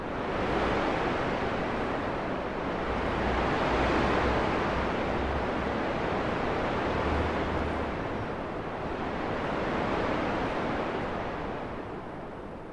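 Steady, loud rushing whoosh of breath blown by children to imitate strong wind, swelling and easing in long waves without a break.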